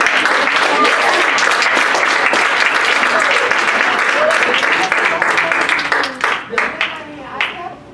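Audience clapping at a student leadership academy winter workshop, a dense, loud burst of applause that thins into scattered claps toward the end, with voices mixed in.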